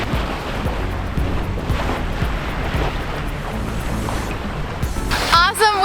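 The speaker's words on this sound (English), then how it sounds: "We are sailing like completely under sail power." A sailboat runs under main and jib at about six knots toward Newport, a steady rush of wind and sloshing waves against the hull filling the clip, with a brief flutter near the end.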